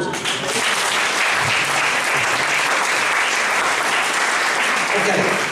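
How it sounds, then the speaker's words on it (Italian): A church congregation claps together at the close of a sermon, a loud, dense, continuous burst of many hands throughout. "Facciamo un applauso"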